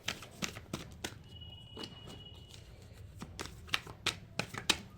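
Tarot cards shuffled and drawn by hand for a clarifier reading, giving a run of crisp riffling snaps and slaps in irregular bursts, close up, with no talking.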